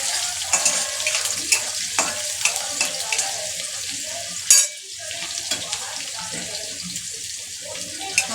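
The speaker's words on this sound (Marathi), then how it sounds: "हिरवी मिरची चांगली 1 मिनिट फ्राय करायची" Green chillies fry in hot oil in a pan, a steady loud sizzle and crackle filling the whole stretch, broken by occasional sharp pops and a brief clatter midway, close by with no speech.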